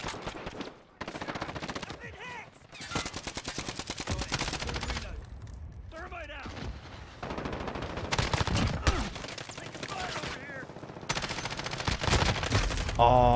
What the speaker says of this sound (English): Oh, shooting at the wall.